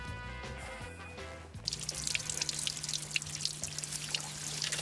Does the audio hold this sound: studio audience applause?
no